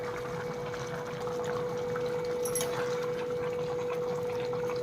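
Hot mashed tamarind water strained for tomato thokku pickle, a steady continuous pouring and trickling of liquid, close and fairly even throughout with a persistent hum underneath.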